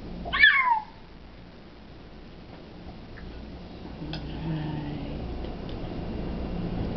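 A single short meow-like cry, a person imitating a cat, near the start, followed by quiet room noise with faint ticks.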